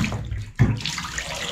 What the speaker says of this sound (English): We're going to see if we've got water. So after all that, we've now got cold water.